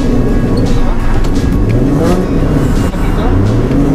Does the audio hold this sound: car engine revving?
yes